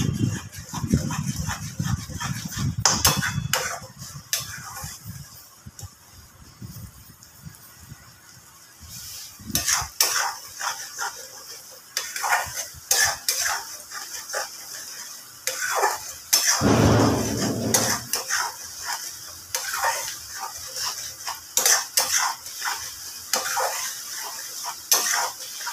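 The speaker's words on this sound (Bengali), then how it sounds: "এবার এটাকে একটু ভালো মতো কষিয়ে নেব।" Masala for a fish curry worked in a pan with a spatula, giving repeated scraping and clattering strokes over a light sizzle, loud and close throughout, with a dog barking in the background.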